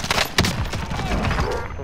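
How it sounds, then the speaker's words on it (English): A flashbang grenade goes off in Call of Duty Modern Warfare amid a dense, loud burst of rapid gunfire and explosive cracks, crowding the whole moment with chaotic combat noise. "Flashbang going out."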